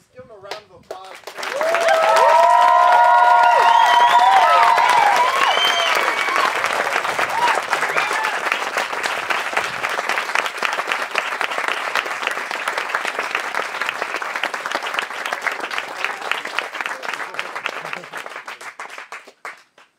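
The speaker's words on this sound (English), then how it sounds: "Just give them a round of applause." An audience at a technology presentation breaks into sustained applause, building quickly and staying dense and fairly loud, with a few voices and cheers mixed in early on before it slowly fades.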